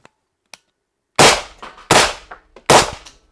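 Three sharp, loud gunshots fired in quick succession through a brand-new suppressor, each a broadband crack with a short decay, preceded by a couple of faint clicks.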